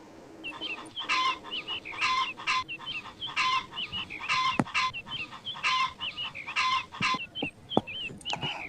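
Chickens and chicks clucking close by: repeated bursts of rhythmic hen clucks and squawks come in steady pulses, with a few sharp clicks and knocks among them.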